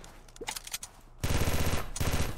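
Automatic gunfire in the ZombsRoyale.io battle royale game, with a few scattered shots and then a dense, loud sustained burst of rapid fire filling the second half, no talking.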